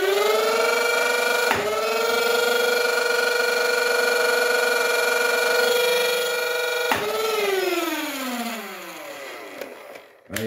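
A battery-powered Dartzone Pro MK3 foam dart blaster runs with a loud, steady motor whir. It has two sharp firing clicks and ends in a winding-down whine, all close and without speech.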